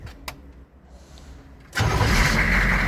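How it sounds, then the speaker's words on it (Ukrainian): A HMMWV engine cranks and catches, then settles into a loud steady running rumble after a quiet stretch with faint clicks. "Запускаємо автомобіль і вона має погаснути"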